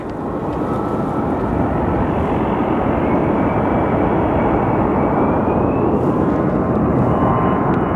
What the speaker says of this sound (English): So watching this plane get pushed back.